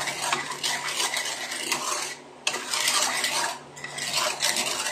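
A spoon stirs sugar in a metal pot while making a biko topping, giving continuous scraping and clinking in steady bursts with two short pauses, close and fairly loud.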